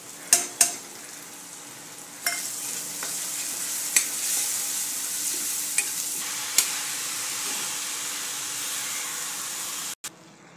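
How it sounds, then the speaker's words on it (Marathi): Chili powder and turmeric are stirred into onions frying for a capsicum dry sabzi, giving a steady soft sizzle with a few sharp scrapes and clinks of the spoon against the pan. "मी मिरची पावडर 2 चमचे घेतली आणि अर्धा चमचा हळद घेतली। आता ते टाकते कांद्यामध्ये।"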